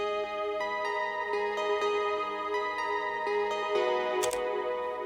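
An Omnisphere Omnichord-style synth pad plays a sparser chord pattern pitched down an octave, with fewer chord notes. Soft ticking attacks repeat over a sustained, even tone, with one brighter accent near the end and no speech.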